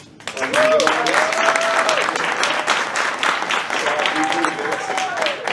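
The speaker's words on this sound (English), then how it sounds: "I hope you will clap for Charlene, the wedding planner" Wedding guests break into a burst of steady, full-room applause for Charlene, the wedding planner, with bright whoops or voices rising over the clapping throughout.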